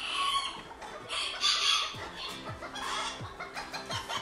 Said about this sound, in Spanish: Aquí abajo es un All English que está con mis gallinitas Faun.